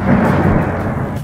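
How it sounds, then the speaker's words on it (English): Loud, rolling thunder rumbles continuously through a stormy steampunk stage of the Clustertruck video game, a deep roar with a hiss like rain on top. "Listen to that thunder."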